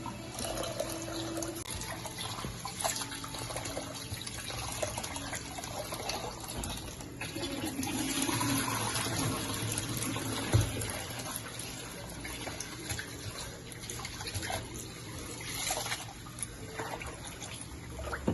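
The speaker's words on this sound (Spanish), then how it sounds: "En nuestro país acostumbramos a lavar el arroz para todo," Tap water runs steadily while rice is rinsed in a home kitchen before cooking Dominican rice pudding. The flow is a soft continuous wash with faint splashes and handling sounds, at moderate distance.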